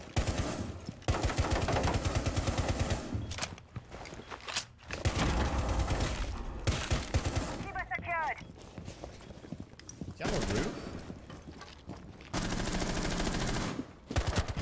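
Rapid gunfire from the video game Rainbow Six Siege comes in several loud bursts separated by short pauses, sitting under and between a player's voice chat along with game sounds.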